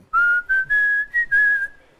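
Melodic whistled tune from a song, a clear, steady whistle in several sustained phrases with short breaks, loud and alone with no talk.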